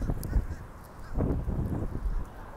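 Geese honk as they fly overhead outdoors, a few faint scattered honks in short bursts over light wind noise.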